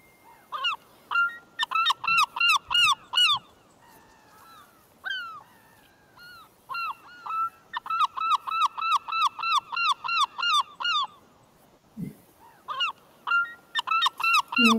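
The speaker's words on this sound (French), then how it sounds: "je vais vous laisser avec le cri du goéland" A large gull on the seabird cliffs of Cap Fréhel gives repeated bursts of loud, nasal, honking calls in rapid series, with short pauses between the runs of calls.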